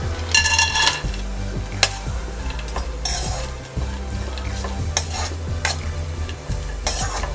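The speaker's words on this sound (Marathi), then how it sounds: "ड्रायफ्रुट्स फ्राय करून घ्यायचे आहेत" Dry fruits fry in hot ghee for a sweet kheer, with a soft continuous sizzle beneath repeated stirring and scraping of a spoon against the pan, plus a few sharp metallic clinks.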